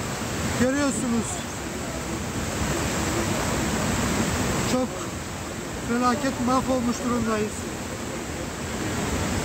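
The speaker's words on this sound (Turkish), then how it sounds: "Dere aşırı büyüdü." A stream swollen by heavy rain in Rize rushes as a loud, constant broadband roar throughout, with someone speaking Turkish over it in two short bursts.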